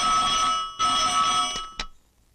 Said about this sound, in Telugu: అమెరికా నుండి ఫోన్